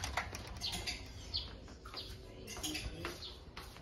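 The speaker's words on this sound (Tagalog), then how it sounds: "Oh, may ibon dito, eh." A bird flutters and flaps its wings indoors in quick, faint bursts amid light rustling and soft chirps, heard close but quiet.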